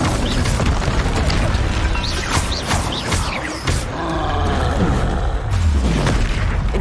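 A fire spell cast in the Hogwarts Legacy video game, loud roaring whooshes and booming bursts of flame that fill the scene continuously amid other combat effects.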